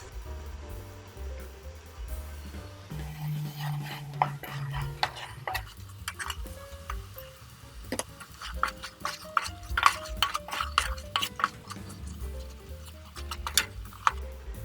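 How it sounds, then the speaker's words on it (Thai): Pork stir-fried in coconut milk in a pan, with repeated scraping and clinking of a spatula against metal in an irregular rhythm over a low simmering bubble, close and moderately quiet. "ผัดจนหมูสุกสักพักหนึ่งนะคะ ถ้าน้ำกะทิน้อยไปก็เติมทีละนิดนะคะ"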